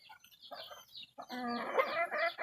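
A Mistisong Labuyo wild rooster calls close by in short bursts of clucking, building into a louder, sustained crow-like cry near the end of the brief clip.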